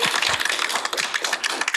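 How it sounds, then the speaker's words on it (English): Audience applause at a Coppell ISD school board meeting, a steady dense patter of many hands clapping close by that fills the whole stretch without pause. "hold your applause."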